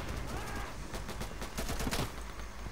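Rapid automatic gunfire in a shooter video game rattles out in fast, continuous bursts, loud and close, with a voice talking briefly under the shots.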